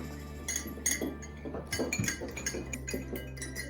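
A spoon clinks steadily against a mug while brownie batter is stirred, with light irregular taps and scrapes close by and no voices.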